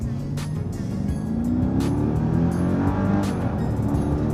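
A 2001 Mercedes E55 AMG W210 pulls hard under full throttle from a standstill, a loud, steady engine roar building smoothly in pitch as the car gains speed, heard close up with no talking.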